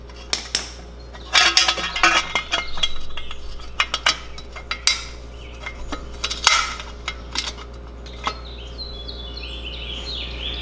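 Metal nuts and parts clink and clatter in sparse, irregular bursts while a new FMF exhaust header is fitted to a Kawasaki KX450 dirt bike, close and fairly quiet over a low hum.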